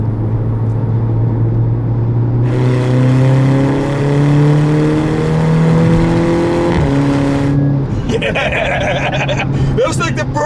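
A 2.5 car with an aftermarket exhaust accelerating hard, engine note climbing through the revs before a gear change, loud and nearby amid crowd noise and people talking.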